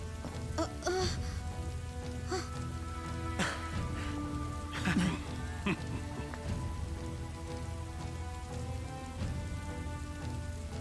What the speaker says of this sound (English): This never-ending rain, too.